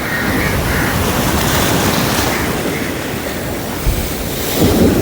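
Stormy sea waves crash and churn under strong wind on the coast at Point Pedro, a loud, continuous roar of surf with buffeting wind noise throughout and a slight swell near the end.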